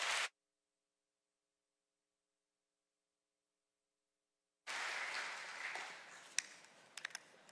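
A church congregation at Incheon Central Church bursts into applause to welcome an elder. The clapping starts after a long silence, then swells into sustained, dense applause with a few sharp, distinct claps.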